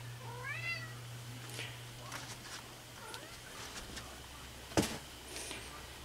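A house cat gives one soft, rising meow near the start, faint against a steady low hum, followed by quiet rustling and a single sharp thump.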